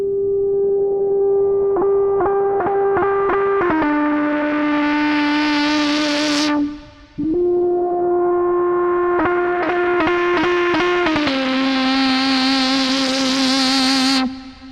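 A synthesizer plasma voice drones with a bright, buzzing harmonic tone whose pitch steps and drifts under LFO-driven FM modulation, each phrase ending in a rising filter sweep; loud and continuous with one brief gap, no talking.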